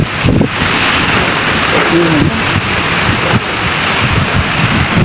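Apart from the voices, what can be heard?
strong typhoon wind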